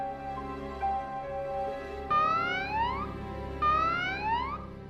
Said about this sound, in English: That's the alarm. Guess the Imperials have popped up.